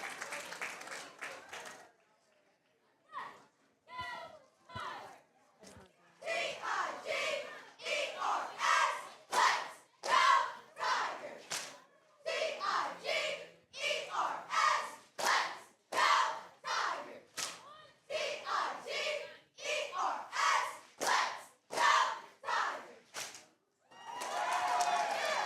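School cheer team chanting and cheering in rhythmic bursts at a high school swim meet, loud crowd voices echoing with scattered clapping, steady repeated shouts throughout.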